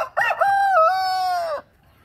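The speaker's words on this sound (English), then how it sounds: "They get pretty rowdy right now, I guess, crowing, especially with all the food." A rooster crows once, close and loud, a full drawn-out cock-a-doodle-doo of under two seconds ending in quiet.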